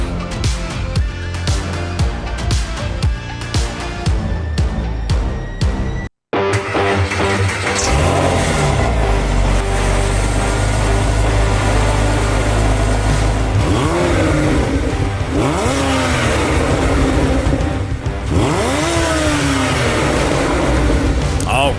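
A car engine revs and roars loudly, rising and falling repeatedly, with a brief cut partway through and mechanical noise throughout.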